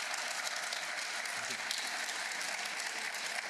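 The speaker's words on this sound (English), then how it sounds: "Small applause, please" Applause from a small audience closing out a workplace culture session, a steady dense patter of clapping holding at an even level throughout, with no talking over it.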